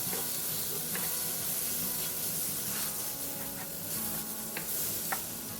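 Yellow onion and green onion whites stir-fry in hot oil, a loud steady sizzle and hiss close by with occasional faint stirring taps.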